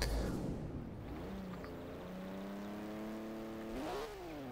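A BMW 2002 engine revs in Forza Horizon 4, pitch climbing and holding in steady harmonic tones, then surging upward again near the end, fairly quiet and alone.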